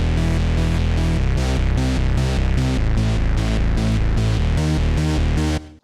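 A heavy layered synth bass in electronic music, built in Massive, pumps in a loud, steady rhythmic pattern of short, dense notes before cutting off abruptly at the end.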